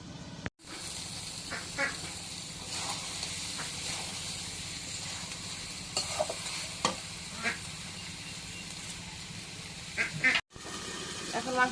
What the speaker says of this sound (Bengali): এখন মাংসটা দিয়ে কষাই দিই।